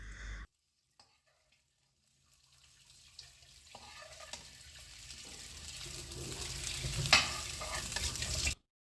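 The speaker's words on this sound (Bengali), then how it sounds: "এ পর্যায়ে আগে ভেজে রাখা সসেজ আর ডিমটা মিশিয়ে 4-5 মিনিট হাই ফ্লেমে স্টার ফ্রাই করে নিলেই আপনাদের নুডলসটা রেডি হয়ে যাবে।" Chow mein noodles with sausage and egg stir-fried over a high flame, a steady sizzle building louder over several seconds with scraping stirs, after a brief quiet start.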